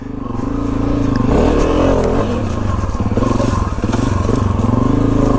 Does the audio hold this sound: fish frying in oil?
no